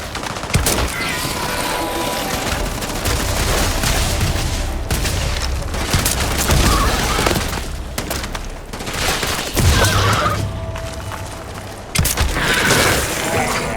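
A Starfield firefight with heavy sustained gunfire, bursts of automatic shots, booms and shattering impacts, with shouted voices mixed in.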